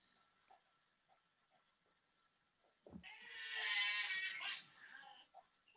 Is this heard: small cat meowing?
yes